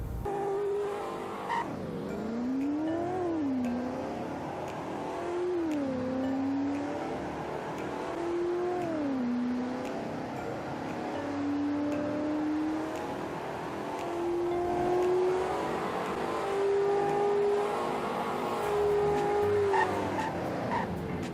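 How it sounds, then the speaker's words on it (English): A car in the Roblox game Greenville accelerating hard: the engine climbs in pitch and drops back at each gear shift, then rises steadily before falling away under braking. The sound is continuous and synthetic. "here is a 0 to 100 and braking test"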